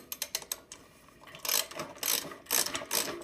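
Screws are driven into a Gila fluid tank during installation: a quick run of sharp ratcheting clicks, then several louder bursts of grinding, whirring mechanical turning, close up and with no talk.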